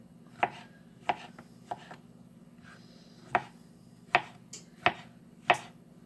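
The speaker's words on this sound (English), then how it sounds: "Cutting them in half and just slicing down." Knife slicing through large halved mushrooms on a cutting board: seven or eight crisp, separate chops land at an uneven, unhurried pace, close and clear against a low steady hum.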